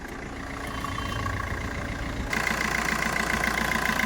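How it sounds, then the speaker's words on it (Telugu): A 2017 Maruti Swift Dzire taxi engine idling at a steady, even hum, with a broadband rumble that grows slightly louder partway through, no talk. "చూడండి, ఇంజన్ కూడా చాలా సైలెంట్ ఉందండి."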